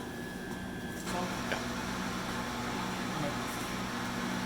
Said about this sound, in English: This is a strong convection oven.